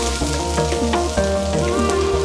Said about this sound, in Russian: А прямо вот в это масло я сразу на нем обжариваю морковку